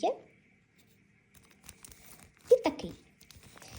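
Paper surprise packets being unpacked, with short bursts of paper tearing and crinkling at the start and around the middle, close by between quiet gaps.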